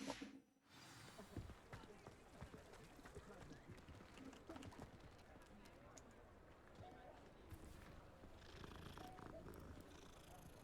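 A steady, low rumbling purr from a cat in a Harry Potter video game runs continuously through the clip, close and even, mixed with faint game ambience and some rustling.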